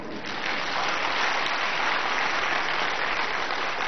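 Sustained applause from an audience at a talk by Swami Ramdev, a dense, steady roar of many hands clapping at once, loud and continuous, with no voices over it.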